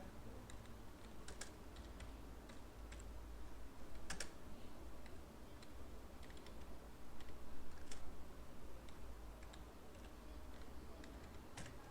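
Fingers type a prompt for ChatGPT on a computer keyboard, a soft, continuous patter of key clicks close by over a low steady hum, with a few louder taps scattered throughout.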